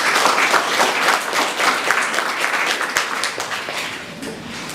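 Applause from an audience at a community agricultural training event, a dense burst of many hands clapping that holds steady for several seconds before gradually thinning out.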